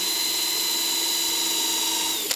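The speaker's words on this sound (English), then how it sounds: "Now I'm countersinking this." A power drill countersinks a hole in Hardie board fiber-cement siding, whining loud and close in one steady run before stopping abruptly, with no voices.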